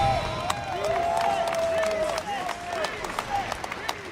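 A large esports crowd cheers and claps at the EVO fighting-game tournament finals, with steady roar and scattered applause under excited commentary.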